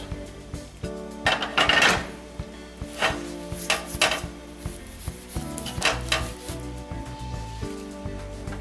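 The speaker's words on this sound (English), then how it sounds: "Wiping down both the front, the back, the inside." A hot cast iron skillet is wiped down front, back and inside, giving soft rubbing swipes and occasional light metallic knocks over a faint background hum.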